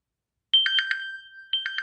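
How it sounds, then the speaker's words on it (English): Bright electronic ringtone from a Hugo Boss Touch smartwatch, starting after a silence as a rapid rippling chirp pattern that repeats twice, clear and fairly loud at close range. "you can set up the ringtone"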